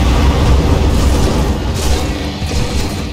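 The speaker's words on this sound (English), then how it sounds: "We're gonna need an airstrike." Airstrike explosion in the game Gears of War 4, a dense, loud, continuous rumbling roar of blast and debris filling the whole clip without any talking.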